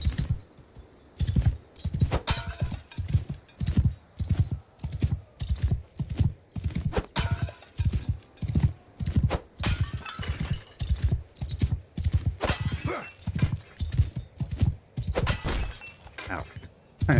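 Horse galloping in Mount & Blade II: Bannerlord, a loud rhythmic run of heavy hoof thuds repeating steadily, with sharp clattering impacts and a whinny mixed in.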